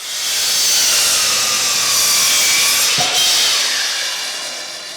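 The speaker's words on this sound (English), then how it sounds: "broke them down roughly oversized on my miter saw" A miter saw rips through wood boards in one sustained, loud cut with a bright, rasping whine that holds steady and slowly fades at the end, no voices present.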